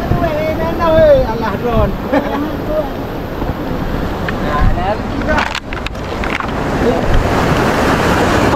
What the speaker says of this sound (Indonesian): Airnya keruh kali ini, keruh, berombak.